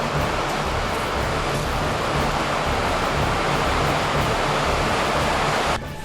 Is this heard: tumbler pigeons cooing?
no